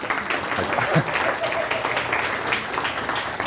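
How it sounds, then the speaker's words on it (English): Audience clapping fills the room for a few seconds after a juggling performer is praised, a steady wash of applause from a crowd at a live show. "For that, I think you deserve a big round of applause."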